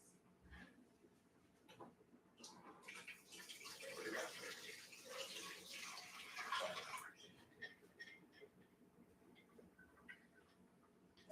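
Water poured out during an ice-water bath step of a Sunday dinner recipe, a steady splashing trickle that swells in the middle and then tapers, heard close and alone.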